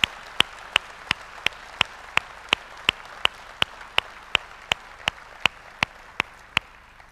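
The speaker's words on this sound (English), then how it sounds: "I think we owe a big round of applause to Dusty Green" Hand claps from an audience at a business talk land in a strict, even rhythm, about three per second, crisp and evenly spaced over a quiet room, with no voices.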